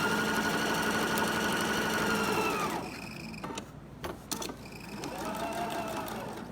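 A sewing machine hums steadily while chain piecing quilt fabric, then slows and stops before starting again, its whirring close and moderately quiet with small clicks in the pause; no voices.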